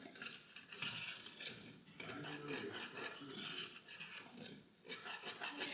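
A fork or whisk stirs flour into grease in a skillet for gravy, giving soft scraping and light metallic clinks against the pan, moderately close and intermittent, with faint talk in the background.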